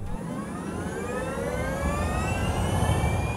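A Jaguar I-Pace electric car's synthesized engine tone climbs smoothly in pitch over a low rumble, rising steadily like an accelerating vehicle with artificial, layered whines.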